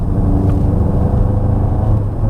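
A 2021 Mk8 VW Golf GTI Clubsport on a UK road: a continuous gruff, loud engine rumble holding a steady drone while driving, with no voices.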